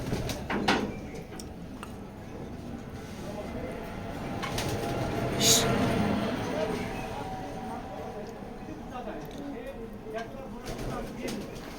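A grizzle female pigeon coos softly, low and muffled, under steady talking and background noise in a loft.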